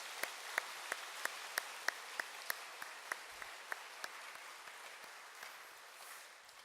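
Congregation applause during a church service: faint, regular claps in a steady rhythm, thinning and softening over a quiet background.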